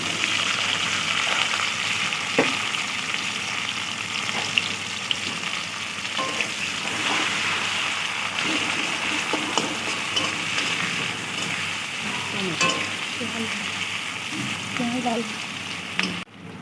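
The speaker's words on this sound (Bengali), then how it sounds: "তেলে ফোড়ন দেবো জিরে, তারপর দিয়ে দেবো পেঁয়াজ কুচে রাখা দিতে" Cumin seeds and chopped onion fry in hot oil for a Bengali katla fish curry, giving a steady close sizzle with small crackles throughout, and a faint voice now and then.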